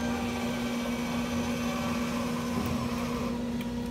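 The electric motor of a Roll-Rite tarp system runs with a steady, faint electric whine and hum, unchanging over a few seconds.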